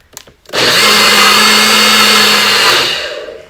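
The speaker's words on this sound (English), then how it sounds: "I'm going to start adding the pineapple and the mango in my blender cup. And here I am ready to blend." A blender whirs at full power through pineapple and mango, starting abruptly after a few brief knocks and running loud and steady for about three seconds before winding down.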